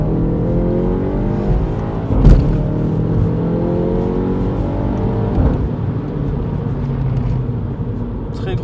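A Mini John Cooper Works with 300 hp pulls hard under acceleration, its engine a steady, loud drone with rising harmonics throughout, joined by a brief thump, while a person talks over it.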